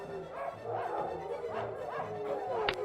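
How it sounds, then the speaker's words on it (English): Several dogs bark, yip and whimper nonstop in a military video game, a dense overlapping chorus of close barks with a faint droning hum underneath and a sharp click near the end. "the next time you start it, you are in this mode, which has dogs barking constantly."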